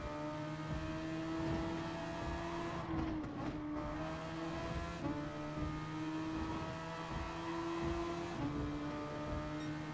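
A Super Formula race car engine screams at high revs in Gran Turismo Sport, holding a steady tone that drops sharply on gear changes several times, loud and continuous with no voices.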